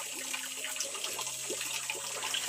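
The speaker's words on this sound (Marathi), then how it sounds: "बादली भरली" Water from a tap runs into a filling bucket, a faint continuous splashing and trickle with no voices.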